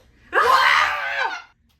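Several people scream together in one loud, sustained burst of just over a second, then stop abruptly.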